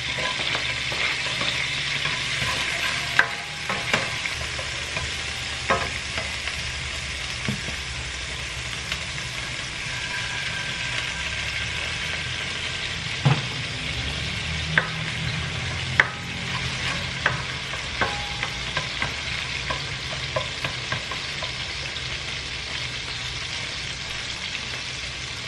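Garlic and tomato sizzle in hot Spanish sardine oil in a pan, a steady close frying hiss broken by occasional clicks and scrapes of stirring, with no one talking.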